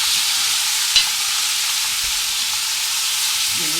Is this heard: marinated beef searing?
yes